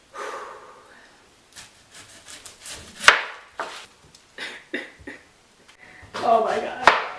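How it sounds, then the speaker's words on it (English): A knife cuts an onion on a cutting board in a handful of separate chops and slicing strokes, close and fairly sharp, with pauses between cuts and a quicker burst near the end. "I'm gonna cut the onion."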